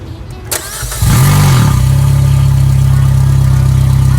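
A Peugeot 206 RC engine cranks briefly, catches with a loud burst, then settles into a steady, close idle.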